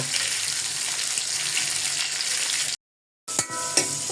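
Rohu fish heads fry in oil in a wok with a dense, steady sizzle and crackle, broken by a brief silent gap, then returning with clinks and kitchen clatter.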